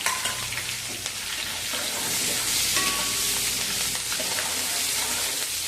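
Green chillies frying in hot oil while making nylon poha chivda, a loud steady close sizzle and crackle with occasional stirring scrapes, no voices.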